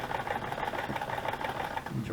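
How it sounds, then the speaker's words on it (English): Old sewing machine stitching, a steady fast whirring hum that runs unbroken and fairly loud throughout, with no pauses. "I love this old sewing machine."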